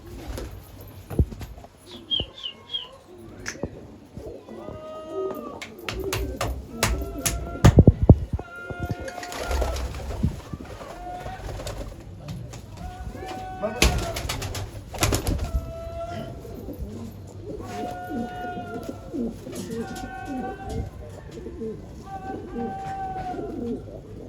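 Pigeons coo repeatedly in soft, throaty bursts, several birds close by, with occasional chirps and a brief flutter of wings against a steady background hum.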